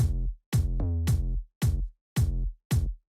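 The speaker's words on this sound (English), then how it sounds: "I sidechain the kick and the bass together so they don't clash" A moombahton kick and 808 bass lock together in a sidechained pattern, with heavy, booming low-end hits pulsing in a syncopated rhythm, loud and alone, separated by short silent gaps.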